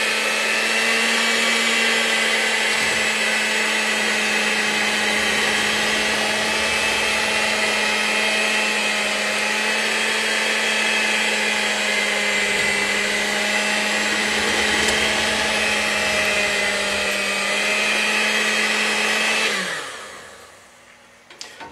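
An electric mixer churns a thick alternative ballistic gelatin mixture with a steady, loud motor whine and a constant hum that runs unbroken for about twenty seconds before spinning down and cutting off.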